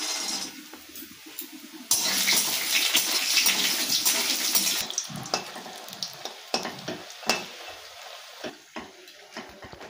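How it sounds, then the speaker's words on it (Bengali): Bori lentil dumplings frying in hot oil for a greens dish: a loud, dense sizzle bursts in, holds for a few seconds, then thins into scattered crackles and pops close by. "এবার আমি শাকে দেওয়ার জন্য কিছুটা পরিমাণ বড়ি ভেজে তুলে নেব"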